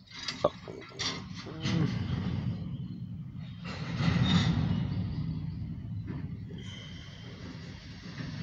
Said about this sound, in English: now there's a grain hopper heading north and possibly a southbound.